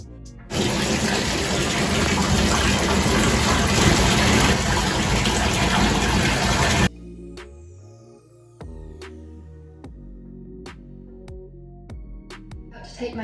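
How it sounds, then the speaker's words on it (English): A new bathtub in a renovated accessible bathroom fills from the tap in a loud, steady gush of water. The flow then stops, leaving quieter drips, splashes and hand movements in the water. "to take my first bath in my new bathtub, just checking the temperature of the water"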